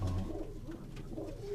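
Bateray pigeons from a breeder's loft in Sialkot coo softly and close by, a short run of low throaty notes with no talk over them.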